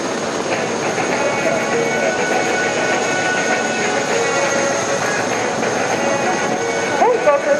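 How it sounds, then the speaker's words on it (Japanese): Eight military helicopters led by an OH-6 pass overhead at the Camp Akeno air show, a loud steady rotor and engine roar filling the air while an announcer speaks over a PA. "OH6 を先頭に8機のヘリコプターが進入してきました。"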